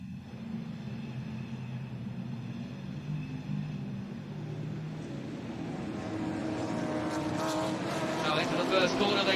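Trans Am series race cars roar off the start at Mid-Ohio, a dense engine drone that swells louder as the pack accelerates, with a commentator talking over it.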